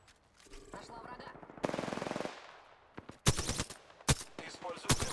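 Enemy gunfire in Apex Legends: a rapid machine-gun burst rattles first, followed by several loud, sharp shots in quick clusters, all close and punchy.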